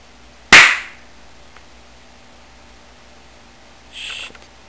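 A single sharp airsoft gun shot cracks close and loud, followed by a fainter short burst of noise a few seconds later, with no talking.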